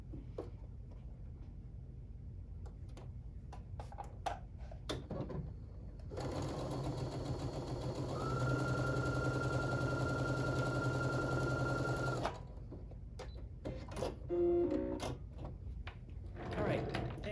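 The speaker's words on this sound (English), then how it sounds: "All right, so I'm gonna sew this." A sewing machine stitches quilt sampler fabric in one continuous run of about six seconds, its hum rising in pitch partway through. Quieter handling noises and speech come before and after.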